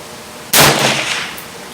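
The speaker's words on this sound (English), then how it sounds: "This is gonna be the first shot at the right upper target." A single sharp rifle shot from a Ruger 10/22 Magnum with a heavy barrel and walnut stock, loud and close, with a short echoing decay outdoors.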